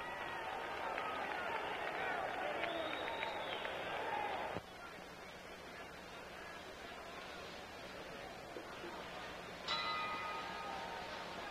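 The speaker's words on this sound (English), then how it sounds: "There's the bell." A boxing round bell rings out at a 1964 ten-round bout at Madison Square Garden, a single bright clang late in the stretch that cuts through a murmuring arena crowd and ringside commentary.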